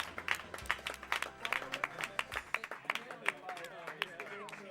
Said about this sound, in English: Round of applause for Hattok